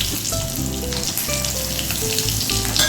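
Green chilies and black cumin seeds sizzle loudly in hot oil in a pan, a dense, steady crackling fry with small pops throughout.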